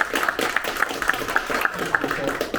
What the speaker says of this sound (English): So please give Steve a round of applause for coming to join us.